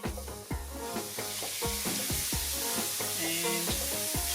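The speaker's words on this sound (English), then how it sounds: "Once your sugar is fully melted and it's brown enough but not burnt, we're going to add our hot milk." Hot milk poured into melted caramelized sugar gives a loud, steady sizzle and hiss, with rhythmic scraping knocks from stirring layered on top, close to the pan.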